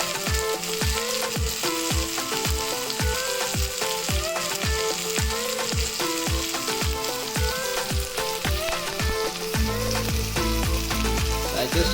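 Tandoori chicken frying in butter on a tawa, a dense continuous sizzle with rhythmic clatter over it, loud and close, no talk.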